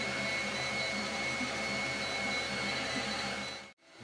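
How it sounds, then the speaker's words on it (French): An ORTUR Laser Master 3 laser engraver burns a logo into cardboard while its extraction fan runs, giving a steady, loud whooshing drone with a faint whine that continues evenly and cuts off abruptly near the end. "Pendant la gravure, j'ai lancé le ventilateur, donc il n'y a aucune fumée dans la pièce."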